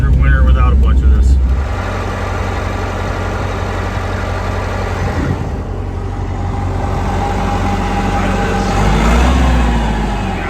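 A Massey Ferguson 175 tractor with a failed three-point hitch runs steadily outdoors in strong wind, its engine a continuous low drone that shifts pitch as it is throttled down, with a person talking over it.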